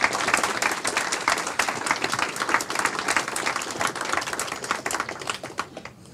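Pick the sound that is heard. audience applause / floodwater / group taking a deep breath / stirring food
audience applause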